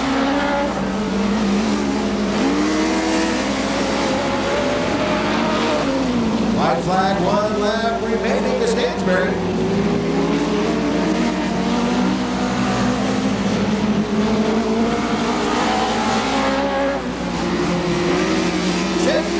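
Race cars roaring around a dirt oval at a Ventura, California event with IMCA sprint cars, modifieds and dwarf cars, engines droning loud and continuous under a public-address announcer's voice.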